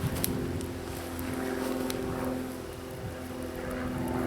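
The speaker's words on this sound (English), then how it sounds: "there is an airplane going by" An airplane drones steadily overhead at a distance on a deserted island during a survival fishing weekend, a broad continuous rumble with wind and faint outdoor noise.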